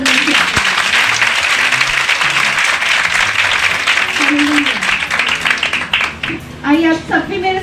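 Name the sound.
congregation applause and cheering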